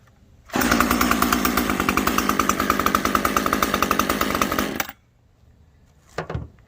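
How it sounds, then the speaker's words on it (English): A Husqvarna T540XP chainsaw runs loud and close for about four seconds with a fast, rasping two-stroke buzz, then cuts off abruptly, followed by near silence and a short knock. "It starts easier than my other saws, I think."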